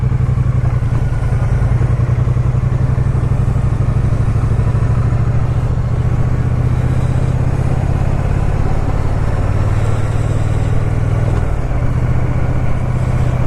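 A Triumph Street Cup motorcycle engine running steadily at low speed during slow riding practice, a loud continuous low rumble with faint clatter, alone without talk.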